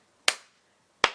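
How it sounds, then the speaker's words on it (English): Two sharp, isolated claps from a group rehearsing a wedding flash mob routine, spaced under a second apart, crisp and close with quick decay and no talking. "we're going to clap really low"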